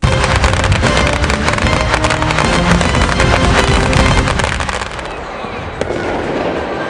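A sutli bomb, a twine-wrapped Diwali firecracker, goes off loud and close. Dense crackling blasts and booms fill the first five seconds, then give way to a lingering, fading rumble with no talk.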